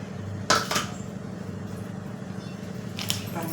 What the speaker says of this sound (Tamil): இப்போ தான் சிக்கன் கட் பண்ணலான்னு கட் பண்ணிட்டுருக்கேன்